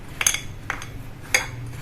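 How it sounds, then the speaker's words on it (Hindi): A spoon mixes a spice stuffing with oil in a bowl for a stuffed-vegetable dish. Three sharp metallic clinks of the spoon against the bowl are spaced across a quiet background, with no talk. "आप जो तेल खाते हो उसे डाल लें आप, और इसे अच्छी तरह से मिक्स करेंगे।"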